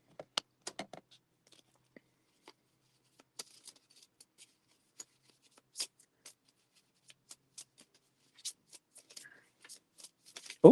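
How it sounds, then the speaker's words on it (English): Tarot cards are handled and shuffled during a psychic reading, giving sparse soft riffles and flicks with scattered short taps, a quiet close sound with a louder burst at the very end. "I'm gonna pull a couple more cards here."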